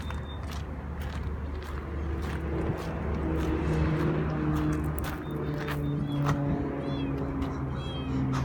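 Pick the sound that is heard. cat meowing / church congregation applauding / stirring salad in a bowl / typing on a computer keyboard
cat meowing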